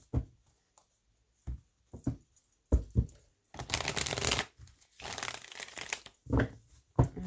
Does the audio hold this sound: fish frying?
no